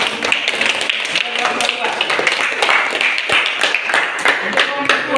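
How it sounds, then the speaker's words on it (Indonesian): Dense clapping from a classroom of students fills the whole stretch at a steady, busy rate, with a few voices mixed in among the claps. "Tepuk tangan dulu."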